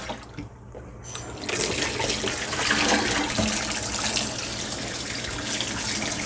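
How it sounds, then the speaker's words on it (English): Water from a tap pours steadily into a basin as hot water is refreshed for yarn finishing, starting with a brief trickle and then rushing in a full, close, continuous stream. "I am going to refresh my hot water now."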